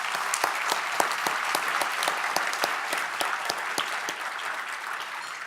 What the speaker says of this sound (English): A round of applause for all of our dignitaries with us today.